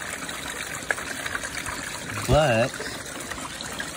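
Water rinsing black-sand-laden gold paydirt through a prospecting sluice, a steady low trickle and wash running throughout, with a short voice briefly over it.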